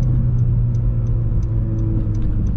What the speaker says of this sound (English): I'm going to rev match all the way down into second gear